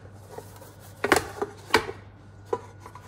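Fish terrine turned out of its mold onto a serving dish, heard as a few sharp knocks and clatters of the dish and mold, with soft handling sounds in between and a low steady hum underneath.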